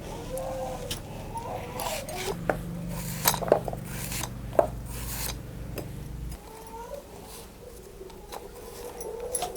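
Knife chopping peeled pumpkin into small pieces for a traditional village-style vegetable dish, giving light, quick taps and scraping against a board over a steady low hum, with occasional louder knocks.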